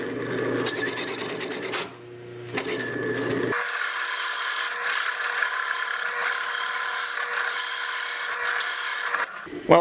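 A power drill with a hole saw grinds into wood, loud and close, its motor pitch shifting as it cuts, with a brief pause near the start.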